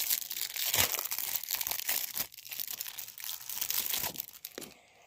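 A football card pack wrapper being torn open and crumpled, loud, close crinkling and tearing plastic foil that runs continuously for several seconds with no talk.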